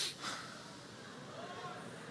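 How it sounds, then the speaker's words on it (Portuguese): A single short, sharp sniff near the start of a church sermon, followed by quiet room tone. "Quem é que pode dar uma fungada aí assim, ó?"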